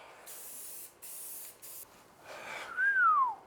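Spray paint hissing onto a Ford 8.8 rear axle housing in three short bursts, close and loud, followed by a rising and falling whistling tone.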